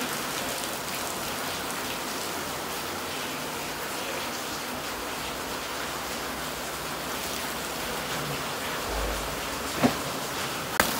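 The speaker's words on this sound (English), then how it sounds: "It's raining." Steady rain falls outdoors as an even, constant hiss of drops on surfaces, with a couple of faint knocks near the end.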